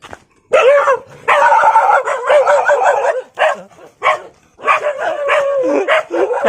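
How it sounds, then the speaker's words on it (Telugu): Several dogs bark in quick, overlapping bursts nearby in a remote tribal village, loud and excited, with brief gaps between volleys. "కుక్కలు"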